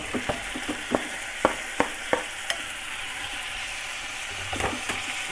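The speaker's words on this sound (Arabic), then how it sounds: "بعد ما خلينا اللحمه والبطاطس تطبخ شويه، نطفيها بالطماطم" Meat and potatoes sizzle steadily in a pan while tomatoes are stirred in, with a constant frying hiss and several sharp clicks of a utensil against the pan near the start.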